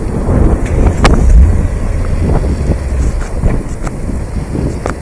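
A manual BMW M5 judders and dies as the clutch is let out too quickly, a loud, close, rough engine rumble with wind buffeting and a few knocks that fades toward the end.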